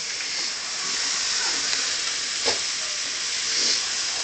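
Vegetables sauteing in a hot pan, a continuous close hiss and sizzle with a couple of brief sharper bursts, no talking.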